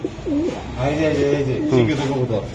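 A Black Neck Budapest pigeon coos close by in a couple of short rolling phrases, heard alongside someone talking.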